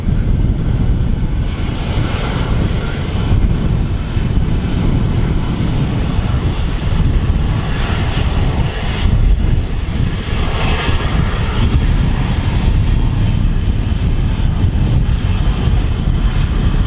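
Ryanair jet engines roar at Manchester Airport, a loud, continuous broadband rumble with wind buffeting the microphone throughout.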